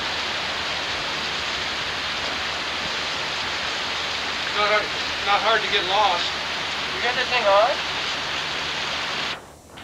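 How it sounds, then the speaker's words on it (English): A waterfall at Lake Shasta makes a steady, broad rushing roar throughout, with people talking over it partway through. "Look at the nice pretty waterfall"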